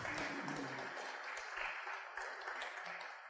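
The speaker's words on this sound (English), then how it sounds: "Give him a round of applause." A conference audience gives a panel speaker a brief round of applause, steady dense clapping that fades slightly at the end, heard at moderate distance.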